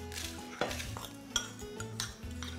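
Graham cracker crumb mixture scraped and transferred from a bowl into a microwave-safe mould, close-up utensil clinks and scraping knocks in an irregular rhythm, several sharp taps against the dish, no talking.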